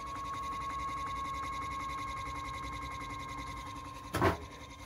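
A 3D-printed pulse motor drives a stepper motor used as a generator, giving a steady mechanical whir with a fixed tone and a rapid pulsing rhythm, then a brief louder knock near the end.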